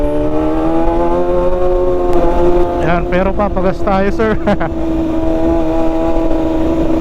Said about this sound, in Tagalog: nag crispy na yung tunog nitong motor natin ngayon